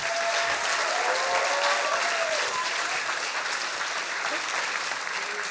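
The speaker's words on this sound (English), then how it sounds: "Please, big applause for Roberta." Steady, dense applause from a large audience at a science slam fills the whole stretch, loud and continuous without breaks.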